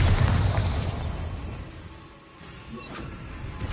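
A Bombarda blasting spell exploding in the fantasy action game Hogwarts Legacy, a loud crashing boom that rumbles and fades, followed by smaller debris-like thuds.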